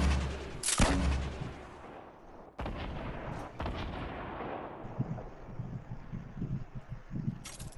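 Explosive grenade-launcher blasts and gunshots in the battle royale game Fortnite: a sharp loud boom early, further heavy blasts, then a rumbling stretch of scattered distant fire.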